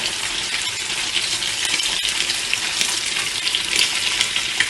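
Cheese-rolled bread browns in a frying pan, a loud, close, unbroken sizzle with a brief knock partway through.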